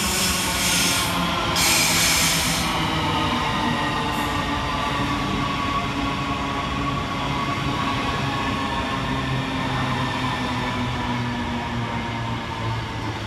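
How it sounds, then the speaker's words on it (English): A Southeastern High Speed Class 395 train pulls into Gillingham station in Kent, its steady rolling rumble and motor whine filling the platform at close range, with a brief hiss of brakes and faint wheel squeal as it arrives. "Next arriving into the station is 395013, working the 1706 Southeastern High Speed service from London St Pancras International"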